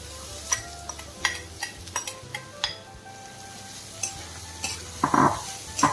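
Grated cabbage is stir-fried over a high gas flame, with a soft steady sizzle broken by sharp clinks and scrapes of a spatula against the pan. A louder burst of frying comes near the end, close and without talk.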